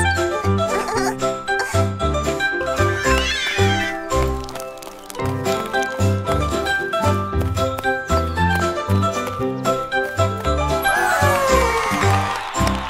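A cat meows in a French children's nursery song about three blind mice. A few rising and falling mews rise over bright, bouncy music with tinkling bells.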